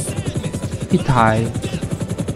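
A CH-54 heavy-lift helicopter hovers, its rotor beating in a steady, rapid low thump while someone speaks over it.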